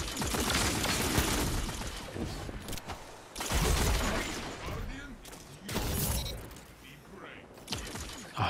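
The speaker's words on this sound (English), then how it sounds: "the sniper is just so crisp" Sniper rifle shots in a video game crack out one at a time, loud and sharp, spaced a few seconds apart, each trailing into a crackling echo, with a voice talking between them.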